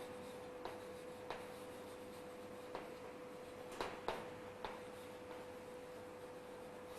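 Faint marker or chalk strokes on a board: a sparse series of soft taps and short scratches spaced across the span, under a steady electrical hum with no talking.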